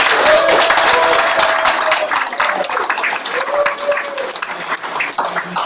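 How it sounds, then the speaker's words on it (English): A crowd applauds steadily, a dense patter of clapping that thins a little toward the end, with a faint tone sliding through it. "let's give Gordo a big round of applause."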